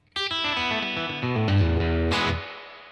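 Electric guitar on the bridge pickup through a Dream '65 amp model with the reverb turned down, a short run of picked notes with light breakup ending on a bright strum that decays quickly.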